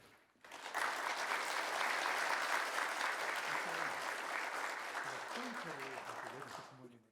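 Church congregation at a Wednesday prayer service applauding to welcome the pastor, steady dense clapping that swells after a moment and holds for several seconds, with a few voices mixed in beneath it.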